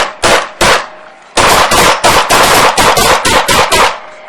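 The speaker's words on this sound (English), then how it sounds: "shots fired" A rapid volley of loud gunshots during a police shooting, two quick reports followed after a short pause by a dense burst of about nine evenly spaced shots, close and sharp with no talking.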